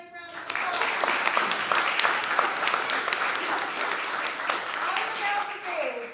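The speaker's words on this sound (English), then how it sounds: "Let's give him a nice round of applause." Applause from the audience at a school board of education meeting, a steady round of clapping lasting several seconds that stays dense throughout before fading at the end.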